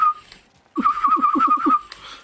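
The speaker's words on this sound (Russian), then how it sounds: "Да, херово свищу." A person whistles a short tune, a brief opening note then a quick run of warbling notes, close and clear with no talk.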